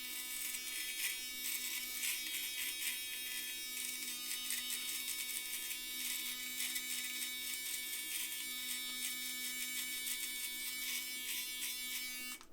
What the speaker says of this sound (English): the trimmer did a decent job to cut down the hair very fast, but the body groomer was a little bit slower